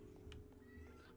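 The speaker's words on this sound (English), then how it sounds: "Oh my god, that was my cat." A pet cat meows once or twice indoors, fairly near, over a steady low hum of room noise, with no talking.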